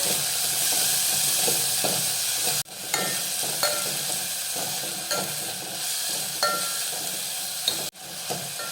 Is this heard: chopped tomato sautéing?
yes